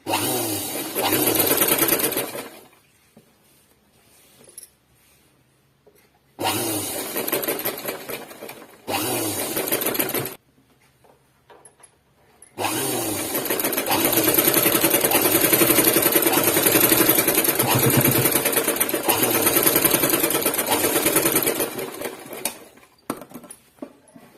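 A sewing machine stitches a collar neckline on a dress in loud bursts of rapid needle chatter, stopping several times with silent gaps, ending in one long run.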